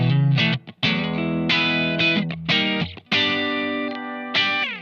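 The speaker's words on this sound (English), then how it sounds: "This is the clean sound." Clean electric guitar notes and chords ring out through Dreadbox effects pedals, with a shimmering chorus-like wash and short pauses between phrases.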